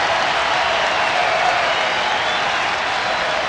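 A baseball stadium crowd at a Cardinals–Phillies game cheers and applauds in a dense, loud, sustained roar of claps and voices that holds steady throughout, broad and distant-sounding with no distinct individual voices.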